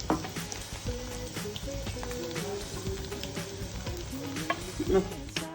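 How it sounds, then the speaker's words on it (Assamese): Veg manchurian balls deep-frying in hot oil in a home kitchen, a dense, steady sizzle and crackle that carries on without a break, close and fairly loud. "এইকেইটা মঞ্চুৰিয়ানকেইটা ভাজি আছোঁ।"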